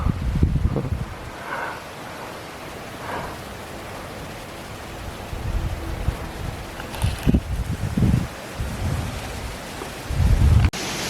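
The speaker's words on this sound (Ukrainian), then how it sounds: "Зараз вітер, на жаль, сильний йдує" Steady gusty wind roars against the microphone, with bursts of louder buffeting and rumbling through the middle and end.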